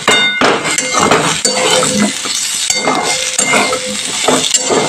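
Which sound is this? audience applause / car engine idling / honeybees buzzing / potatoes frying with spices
potatoes frying with spices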